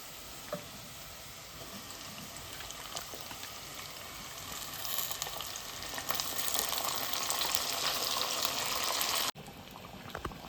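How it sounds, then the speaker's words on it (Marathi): Country chicken sizzling and frying with crisp browned onions in a clay pot on a gas flame, a steady crackling hiss that grows louder midway, with occasional stirring clinks and no talking. "आता मी ह्याच्यामध्ये चिकन घालून घेते"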